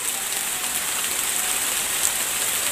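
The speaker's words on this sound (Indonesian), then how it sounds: "karena hujan gede sudah mulai turun" Heavy rain pours steadily over a rice field in Cibodas, a dense, even hiss of drops with no pauses and no voices.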